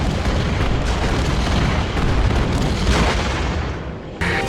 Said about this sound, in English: So this is that big cannon that's been blasting us